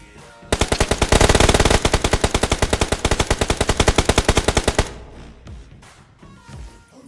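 A long, fast machine-gun burst in the BGMI battle royale game fires dozens of evenly spaced, loud, punchy shots for about four seconds, then stops abruptly, leaving quieter scattered thumps.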